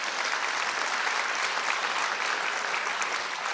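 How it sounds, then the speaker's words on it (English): Dense, steady clapping rises from a conference audience during a food security announcement, holding at a constant level for the whole few seconds with no talk over it. "You can clap for that. Please clap."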